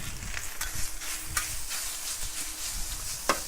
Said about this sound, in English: I'm going to start by frying the brine pork